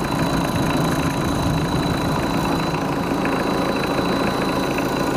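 A turbocharged car engine idling just after a cold start, a steady, loud, unbroken rumble with a constant low hum throughout and no voices.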